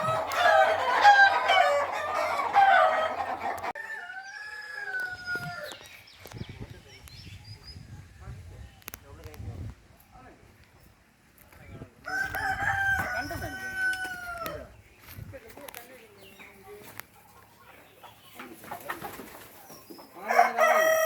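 Egg-laying hens cluck and squawk inside a poultry farm shed in Mandoor, Batticaloa, in loud bursts with quieter gaps between them, while a rooster crows at times.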